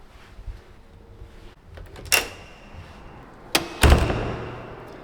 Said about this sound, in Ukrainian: Автоматичні двері.